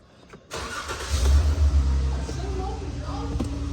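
A 2015 Ram 1500 pickup engine with a misfire fault starts up and runs, a loud low rumble with uneven pulses that holds steady after the start, while people talk briefly nearby.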